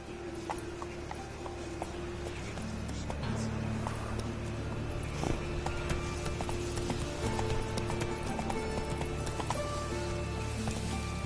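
Roach, the horse in The Witcher 3, gallops through Novigrad City, hooves clip-clopping in a steady rhythm under a dense game soundscape with music and ambient bustle.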